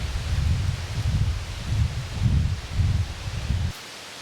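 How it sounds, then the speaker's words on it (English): Wind rushes through the trees of the Allegheny National Forest, leaves rustling in steady soft gusts that swell and fade for several seconds before stopping abruptly. "there's leaves falling down every place from the wind"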